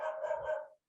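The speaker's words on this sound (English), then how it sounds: "Sorry about the dog in the background." A dog in a home barks in the background, one drawn-out bark or yelp just under a second long that stops abruptly, with nothing else audible.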